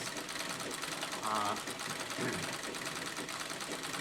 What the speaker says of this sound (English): 600 series, which is a modern, more modern electric machine, fancy stitches, cams.